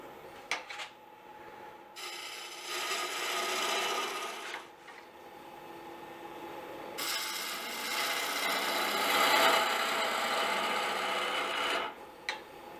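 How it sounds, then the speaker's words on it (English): Bedan squaring the wood ends on a lathe, two bursts of close, hissing cutting a few seconds each over a quiet motor hum, separated by a pause, with small clicks and taps between. "Now I'm going to take a bedan and just square up the ends."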